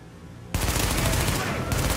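Dense, sustained bursts of rapid gunfire from the video game The Division erupt suddenly after a quieter start, loud and continuous like a fusillade.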